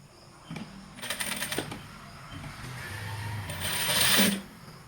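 A sewing machine stitches a saree in short runs of rapid mechanical clatter, close by, separated by quieter handling.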